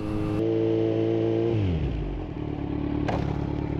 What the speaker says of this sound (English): So here's me doing some stopping at different speeds from 15, 20, and 25 miles an hour, doing different stops